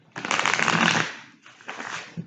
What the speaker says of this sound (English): I'm gonna shuffle these kind of separate. This deck is so bulky.